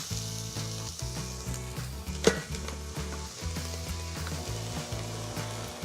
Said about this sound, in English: add my onions and saute them